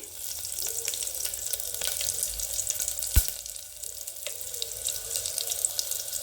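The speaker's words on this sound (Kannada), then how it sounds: "ಬಸ್ಸಾರಿಗೆ ಒಂದು ಒಗ್ಗರಣೆ ಎಣ್ಣೆ ಕಾದಿದೆ ಒಂದು ಬೆಳ್ಳುಳ್ಳಿ ಬೇಳೆ ಜಜ್ಜಿ ಹಾಕ್ಕೊಂಡು ಹಾಕಬೇಕು" Crushed garlic tempering crackling in hot oil for bassaru, a dense continuous close sizzle with faint clinks, no voices.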